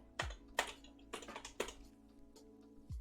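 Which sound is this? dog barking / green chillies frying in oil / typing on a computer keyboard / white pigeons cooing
typing on a computer keyboard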